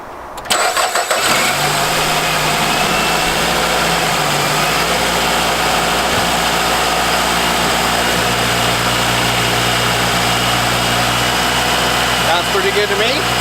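A 2009 Nissan Rogue's 2.5-liter engine cranks and catches, then settles into a steady, loud idle with a low hum and faint vibration, running alone throughout.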